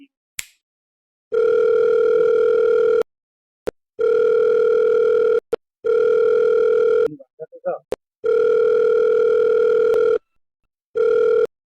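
A telephone dial tone sounds as a call is being placed, long steady humming bursts separated by short gaps, loud and close, with a brief rustle or voice partway through.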